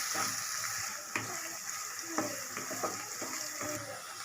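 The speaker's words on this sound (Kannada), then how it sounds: "ಇದನ್ನು ಮೀಡಿಯಮ್ ಫ್ಲೇಮಲ್ಲಿ 2 ರಿಂದ 3 ನಿಮಿಷಗಳ ಕಾಲ ಚೆನ್ನಾಗಿ ಫ್ರೈ ಮಾಡ್ಕೊಳ್ಳೋಣ" Onions and curry leaves fry in a pan over a medium flame with a steady, bright sizzle, broken by a few soft stirring knocks.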